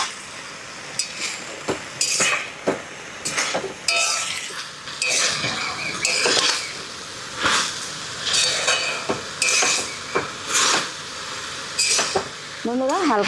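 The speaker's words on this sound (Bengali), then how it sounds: "ঢাকনা ছাড়াই এখন হালকা ভাজা করে নেব। আরেকবার নাড়া দিয়ে দিই।" Fiddlehead fern greens stir-fried uncovered in a pan without salt, giving a steady close sizzle broken by repeated scraping strokes and clinks of a utensil against the metal.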